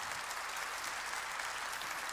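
Church congregation clapping together during a sermon, a brief, even burst of dense applause heard alone, steady and fairly distant.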